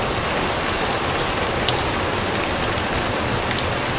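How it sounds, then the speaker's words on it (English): Heavy tropical rain pours down steadily in Bangkok, a dense, continuous hiss of a sudden downpour with no voices. "Just mega torrential downpour."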